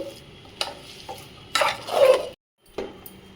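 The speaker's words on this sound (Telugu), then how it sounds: "చూడండి ఈ విధంగా కలుపుకుంటూ ఒక నిమిషం ఆ వేడిలో ఉంచాలండి" A spoon stirring thick ragi sangati in a pot, with scraping and clunking strokes against the metal and a brief pause before another scrape, close and clear with no voices.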